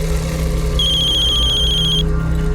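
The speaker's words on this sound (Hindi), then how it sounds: "लो, आ गया फोन।" A telephone rings once in a bright electronic trill lasting about a second, over a low background hum.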